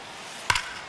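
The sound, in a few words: bat striking baseball in a baseball video game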